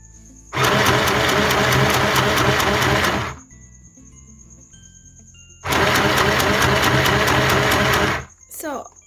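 A mini sewing machine stitches stretchy fabric in two loud, steady buzzing bursts of about three seconds each, with a quiet pause between them and a brief rustle at the end.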